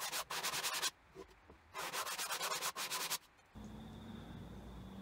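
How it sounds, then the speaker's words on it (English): Sandpaper rubbing along the sharp edges of wooden boards for a woodturner's sawbuck, close and steady, in two long back-and-forth passes, then a low background hum. "I take all the sharp edges off with a bit of sandpaper there as well"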